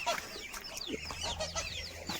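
Several chickens cluck and chatter close by, with overlapping calls and soft squawks in a continuous, busy flock murmur, in a mixed poultry yard with geese, ducks and turkeys.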